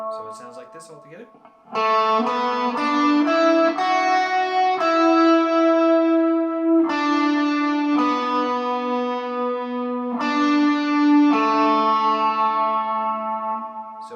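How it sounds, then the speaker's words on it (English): An overdriven electric guitar plays a driving riff from a worship song, held notes ringing in repeated phrases over about twelve seconds, preceded by a brief soft passage. "we have a little more driving riff that we'll go ahead and use overdrive for"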